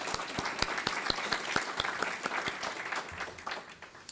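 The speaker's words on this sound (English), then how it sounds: "Let's give them a round of applause" An audience at a historical marker dedication ceremony claps for school board members, with a few loud, distinct nearby claps punctuating a busy round of applause that gradually thins and fades toward the end.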